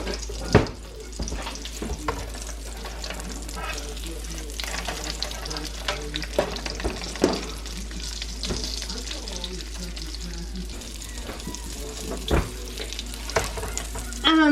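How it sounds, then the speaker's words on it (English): Breaded pork chops browning in olive oil in a skillet, a steady close sizzle and crackle with occasional scrapes and clinks throughout, continuous and fairly loud. "I'm going to brown it on both sides in my skillet in the olive oil"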